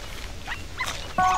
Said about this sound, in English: here are some more apples for our little badger puppies